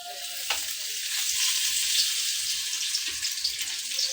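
Cut garlic cloves hit hot oil in a pan, producing a continuous close sizzle with faint splashing and a few soft knocks, heard alone with no talking.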